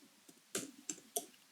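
Sparse, quiet keystrokes on a computer keyboard while writing Java code, a few distinct clicks spaced irregularly apart with near silence between them.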